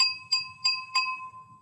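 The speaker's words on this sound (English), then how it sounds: "Lightly tap on the glass," Four light, bright taps with a pencil's metal end on a drinking glass ring out in quick succession, each leaving a clear sustained pitched tone, with faint low murmuring underneath.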